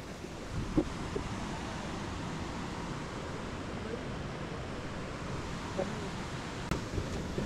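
Water flows at Chaparai waterfalls in the Araku hills during the monsoon, a broad, steady rushing roar with a few faint knocks and clicks over it.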